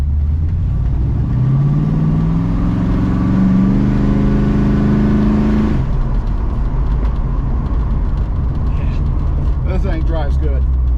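A 1970 Plymouth Cuda with a 440 engine drives along, its low engine note rising steadily as it accelerates, then settling into a steady cruising rumble with road noise. Faint voices come through in the last few seconds.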